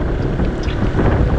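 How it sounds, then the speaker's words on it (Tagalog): Strong wind buffets the microphone on the Tagaytay bypass, a loud, steady roar of gusting rumble with no voices. "Grabe lakas ng hangin"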